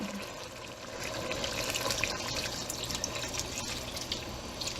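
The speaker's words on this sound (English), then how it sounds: "this is where I add my water" Water pours steadily from a tap or jug into a soup pot holding turmeric, sweet pepper and vegetables such as potatoes and kale, a continuous close splashing rush lasting several seconds with no talk.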